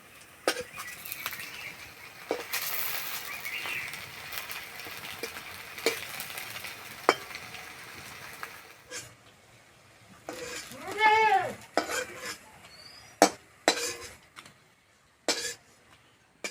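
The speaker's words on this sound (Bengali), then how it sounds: "বড়াগুলো ভাজতে একদমই সময় লাগে না" Raw papaya fritters (bora) frying in hot oil give a low, continuous bubbling sizzle, broken by occasional knocks and scrapes and a brief whining squeal near the end.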